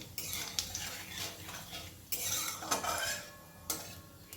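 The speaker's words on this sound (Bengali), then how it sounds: "তেল গরম হয়ে গেছে তেলের মধ্যে আমি দিয়ে দেব হাফ চামচ মতো কালো জিরে ফোড়নটা একটুখানি নেড়ে নেব" Black cumin seeds stirred in hot oil for a Bengali hilsa dish, with a utensil scraping and clinking against the pan in quick strokes over a soft sizzle, close and fairly quiet with no talk.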